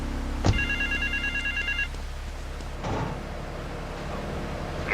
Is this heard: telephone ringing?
yes